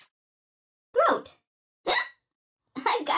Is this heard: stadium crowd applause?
no